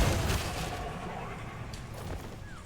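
A big explosion goes off in a dwarf co-op video game, a heavy low boom with rumbling gunfire-like blasts that fade into a sustained noisy wash over under three seconds.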